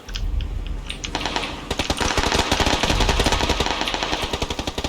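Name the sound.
gunfire in the video game PUBG (Battlegrounds)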